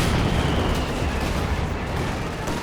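A Panzer IV medium tank fires during a video game battle, and dense, loud, rumbling blasts and explosions roll on continuously with no break.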